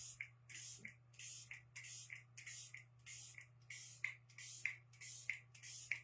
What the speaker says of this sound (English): let's go ahead and set all of our powders with our Everset setting spray